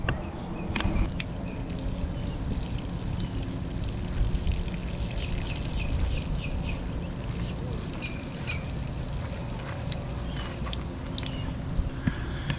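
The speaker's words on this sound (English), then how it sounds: "We're going to get just a small little stream of water to come out for about 12 to 15 minutes." A small, pencil-sized stream of water runs from a hose into an RV water softener, a steady close trickle and splash with a few faint clicks and no talking.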